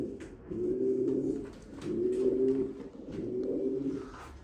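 Pigeons coo close by in three slow, throaty rolling phrases with short pauses between them.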